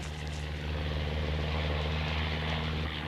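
A search aircraft flies over an island, its engine a steady low drone that holds at a constant loudness throughout, with no voices.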